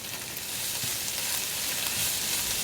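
Steady sizzling of tomato concentrate frying in a pan for a cottage pie, a continuous close crackle and hiss with no talking.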